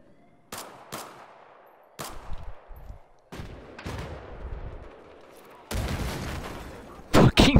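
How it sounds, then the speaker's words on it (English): Mortar blasts and gunfire from a video game ring out in sharp, loud bursts and booms at irregular intervals, some close and heavy, ending in a cluster of louder shots. "Fucking mortars."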